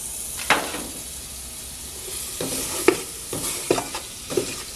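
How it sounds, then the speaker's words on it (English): Flour is stirred into butter sizzling in a pot, making a steady soft frying hiss with several scraping strokes of the spoon against the pot, close and clear and with no talk. "I'm just mixing that up with the butter."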